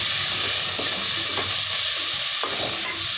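Ingredients for kuska sauté in a pot, a loud, continuous sizzle broken by a few sharp scraping clicks of stirring.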